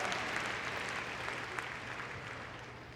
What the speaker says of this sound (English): We'll have a big round of applause for them.